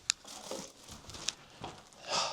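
A plastic bag wrapped around a YouTube play button award crinkles and rustles up close in scattered bursts, with sharp crackles and a longer rustle at the end, and no voices.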